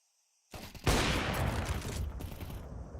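Rapid gunfire bursts out after a moment of silence during a competitive shooter video game match, a loud dense volley that keeps rattling on.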